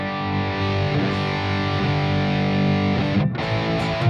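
A distorted electric guitar played through a Fractal FM3 amp modeler with a loaded amp and cab model. Sustained chords ring thick and saturated, with a brief dip near the end.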